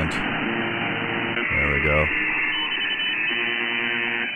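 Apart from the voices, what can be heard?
shortwave buzzer station on 4625 upper sideband via Kiwi SDR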